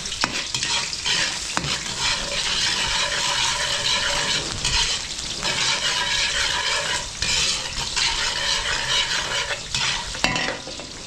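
Garlic and onion sauté in a pan in a restaurant kitchen, a continuous loud sizzle with frequent stirring and scraping, plus a few sharp utensil knocks against the pan.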